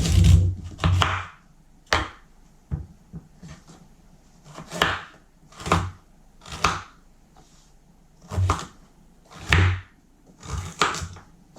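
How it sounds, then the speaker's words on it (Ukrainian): Close, thudding knife strokes dice celery root on a board, coming in clusters with short pauses between them. "Корінь селери також нарізаю кубиком."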